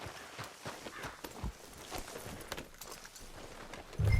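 Horse hooves clip-clopping at a walking pace in Red Dead Redemption 2, a steady run of soft, close hoof falls among light game ambience, with a louder thump near the end.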